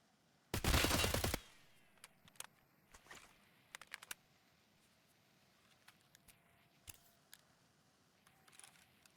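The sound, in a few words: gunfire in a competitive shooter video game match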